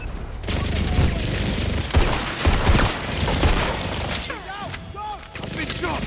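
Gunfire rings out in the video game 007 First Light, sharp bursts and booms crackling through a dense, busy action mix with shouting voices over it.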